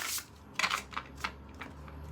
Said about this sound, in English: I feel like we'll give the cards a bit of a shuffle.